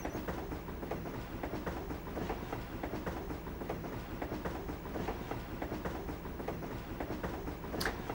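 A train in the Professor Layton and Pandora's Box game runs along steadily, a continuous rolling rumble with a regular clickety-clack rhythm of wheels over rail joints, moderately loud and alone, with a brief high squeal near the end.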